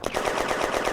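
Gunfire in the WWII strategy game Firefight during a May 1940 battle, a rapid burst of repeated cracking shots with a slight echo, close and loud for about a second.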